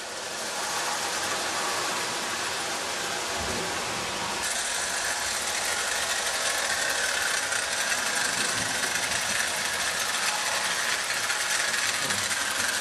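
A stock Marx 666 toy train locomotive hauls a long string of cars, producing a continuous loud grinding whir of motor and gears with a ratcheting rattle, steady throughout.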